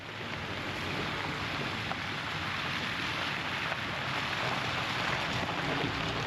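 Pouring rain in the Olympic Mountains on the Olympic Peninsula makes a dense, steady hiss, with wind-like rumble on the microphone, continuous throughout and without talk.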